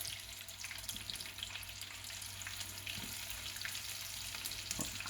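Fish fillets frying in very hot oil for fish and chips, a dense, steady crackling sizzle with scattered pops, continuous and close throughout with no talking.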